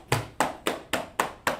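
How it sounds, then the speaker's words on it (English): Six sharp, evenly spaced hand claps, close and loud, about one every quarter second, forming a steady rhythmic clap with nothing else behind it. "Let's clap it up for Mike."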